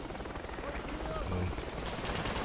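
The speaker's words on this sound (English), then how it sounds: "Helicopter! Oh, helicopter!" Military helicopter landing close by in the video game Project Reality, a steady loud rotor and engine roar under bursts of gunfire and excited player voices.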